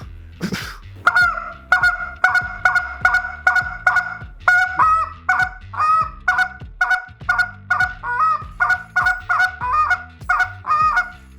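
A goose call is blown in a quick cadence of honks and short clipped spit notes, loud and close, each burst sharp with a brief gap before the next.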